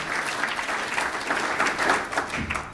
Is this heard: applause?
yes